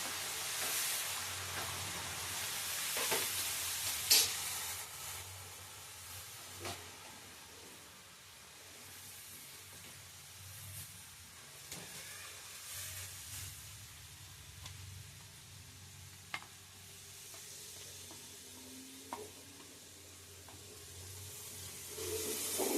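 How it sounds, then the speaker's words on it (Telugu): Hot oil tempering is stirred into a red chili pickle, giving a soft, steady sizzle and hiss with scattered scraping and clinking of the spoon, fairly quiet with no talk. "ఇప్పుడు ఈ పోపు మొత్తం ఈ పచ్చళ్ళలో వేసి కలుపుకుందాం."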